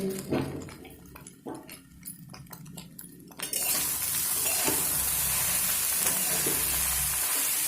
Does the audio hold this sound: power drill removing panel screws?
no